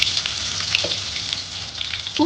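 Bay leaf, cloves and a pinched green chilli sizzle in hot oil, a steady close crackle and hiss with a few small pops, no one talking.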